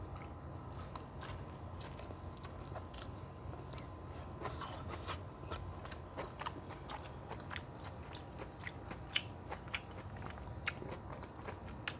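Baked squash, coated in breadcrumbs and topped with Parmesan, is eaten close to the microphone with steady crunchy bites and chewing. Sharp crackles recur across the whole stretch, and no one speaks.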